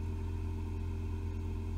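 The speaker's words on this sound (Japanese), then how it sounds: "まあなんかエンジンが温めようとしてるんでしょうかね。 ちょっと音鳴ってるんですけども" A Toyota Sienta hybrid's gasoline engine idles steadily to warm up and charge the battery, a low, even hum with a faint rhythmic throb, heard from inside the car with no talking.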